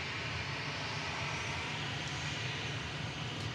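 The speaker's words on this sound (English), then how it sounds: "Singapore Flight 51 coming in from Houston before it heads back to Singapore." A Singapore Airlines Airbus A350-900, registration 9V-SMU, arrives at Manchester Airport on flight 51 from Houston. It gives a faint, continuous, distant engine rumble with no voices.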